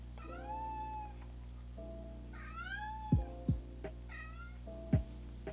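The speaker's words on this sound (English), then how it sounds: "listen to my cat scream" A cat meows loudly and repeatedly indoors, drawn-out wavering yowls in a series of several calls, close to the listener, with a few brief thumps between them and no talking.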